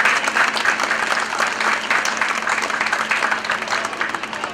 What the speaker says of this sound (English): So a great round of applause for all of the support and the hard work in putting those events together.